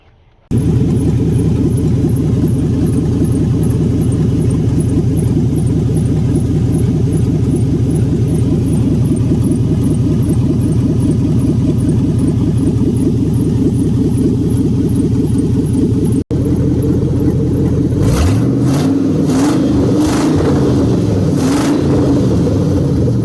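LS-swapped Chevy C10 truck engine idling steadily for about fifteen seconds, then rising through a series of loud, sharp revs after a short break, close by with no talk.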